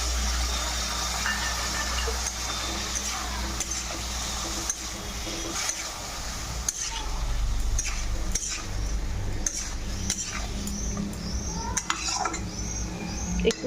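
Potatoes with a paste of poppy seed and chilli fry in a pan while a spoon stirs, scrapes and clinks against the metal in frequent uneven strokes over a soft sizzle.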